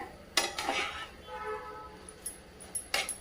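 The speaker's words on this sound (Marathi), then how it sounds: "पूर्ण एकदम व्यवस्थित असं हलवायचं आहे" A spoon scraping and clinking in a pan while potato sheera is stirred with milk cream: a few quiet metallic taps and soft scraping strokes, close and faint.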